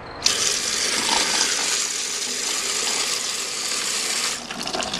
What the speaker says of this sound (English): This is my custom toilet flushing one sheet of toilet paper.